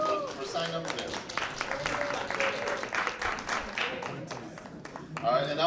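Audience applause for a panel of speakers at a discussion event, a steady wash of clapping from a crowd lasting several seconds with voices mixed in underneath.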